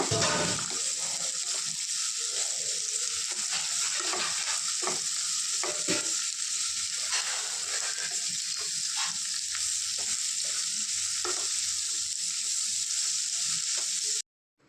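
Onion, ginger, garlic and curry leaves fry in hot oil for a chicken roast, a continuous loud sizzle with repeated scraping stir strokes of a spoon throughout, ending abruptly.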